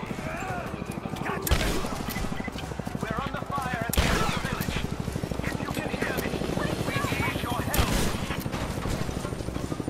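Gunfire during a village attack in Rise of the Tomb Raider: several sharp shots ring out at intervals over a continuous rapid thumping, like a helicopter or sustained fire, loud and busy throughout.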